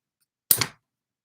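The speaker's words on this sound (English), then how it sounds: "Take a piece of string, cut this string, right?" Scissors cutting through a piece of string, a single short crisp snip heard alone in otherwise near silence.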